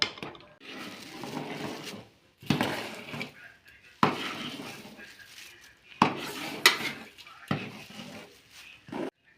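Drumstick leaves are added to cooked dal in a pot and stirred, a metal spoon scraping and clanking against the vessel in repeated bursts with short pauses, close and moderately loud.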